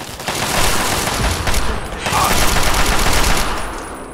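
Sustained automatic gunfire from a turret in the video game Fallout 3, with dense rapid bursts and booming impacts that continue without pause for several seconds.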